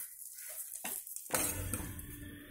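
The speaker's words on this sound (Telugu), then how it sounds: "ఇప్పుడు నూక వేయించుకుందాం. ఒక 2 నిమిషాలు వేయిద్దాము." Wheat semolina roasting in a pan for prasadam, a steady soft sizzle and scraping stir with a brief clatter, close and fairly quiet, with no talk.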